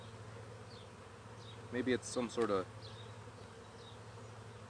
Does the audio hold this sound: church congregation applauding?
no